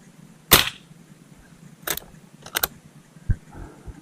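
A Walther lever-action CO2 rifle fires with one sharp, loud crack, followed by several quieter metallic clicks and clacks of the lever and mechanism, close by with no speech.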